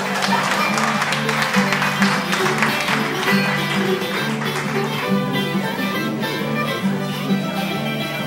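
Warm audience applause for Julio César Royo: dense, steady clapping that runs for about eight seconds over a low, sustained musical tone.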